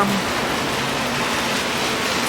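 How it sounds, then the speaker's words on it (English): Steady, dense rainfall hissing continuously on surfaces aboard a cruise ship near Ajaccio, close and fairly loud, with no voices over it. "So the rain's finally come."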